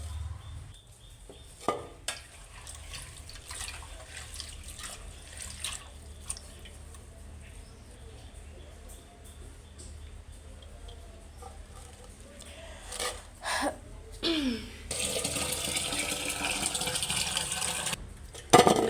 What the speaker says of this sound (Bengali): শাকগুলোকে 2-3 বার ধুয়ে নিতে হবে।